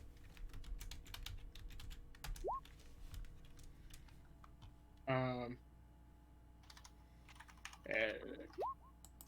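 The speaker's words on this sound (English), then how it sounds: "I will type his name out in chat" Typing on a computer keyboard during a tabletop game session, quick light key clicks running steadily throughout, close and fairly quiet, while a few short tonal chimes and brief bursts of other sound break in.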